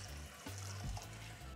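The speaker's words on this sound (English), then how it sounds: "And then you can pour that out, get rid of some of the starch, and then you can add cold water again." Cold water runs from a tap onto washed rice, a steady splashing stream with brief changes in flow, close and without talk.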